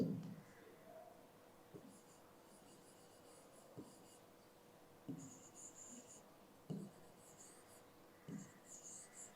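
Faint pen strokes sketch a chromosome diagram during a biology lesson, coming in short, soft scratching bursts separated by quiet pauses in a calm room.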